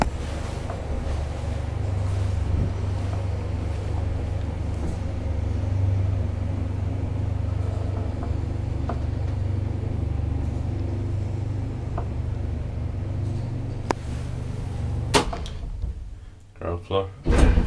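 An old Kone traction elevator travels between floors in an apartment building in Turku, giving a steady low mechanical rumble and hum throughout, then a few clunks and rattles near the end as it stops.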